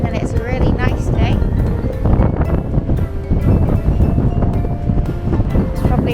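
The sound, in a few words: wind blowing on the microphone at the seaside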